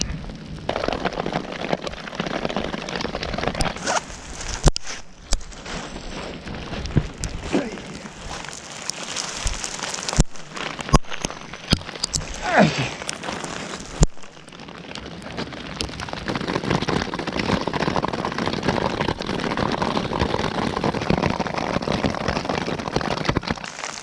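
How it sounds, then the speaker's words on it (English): Hail patters densely and steadily on surfaces nearby, a continuous hiss of small impacts with sharper clicks scattered throughout. "Ah, it's hailing."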